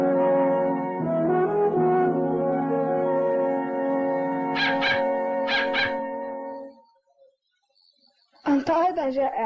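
A large dog barks and whimpers in an animated children's series, with short yips and whines heard over a sustained musical backdrop, then a brief pause before a burst of sharp yelps.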